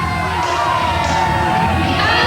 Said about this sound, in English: The crowd on their feet for Eddie Guerrero